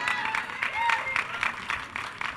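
An audience claps at a university commencement ceremony, with steady moderate applause running under a voice speaking over it.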